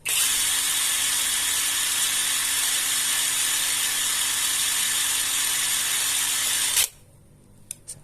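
A Hilda impact wrench, upgraded for more power, runs in one continuous loud high-pitched whine while tightening, close up, cutting off abruptly near the end into near silence with a couple of small clicks.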